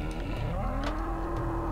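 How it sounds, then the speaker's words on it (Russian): A cow lowing in a Serious Sam 2 residential area, one long loud sustained moo heard up close over a steady game ambience, with no speech. "Да хватит мычать."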